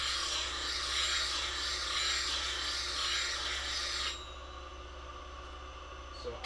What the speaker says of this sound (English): So I just shortened the heel of the bevel so that it's under 1/8 right here